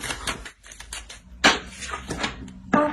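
Tarot cards are drawn and laid down on a surface, making a series of sharp, crisp taps and flicks, with a few louder slaps among softer rustles.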